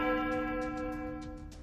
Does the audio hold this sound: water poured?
no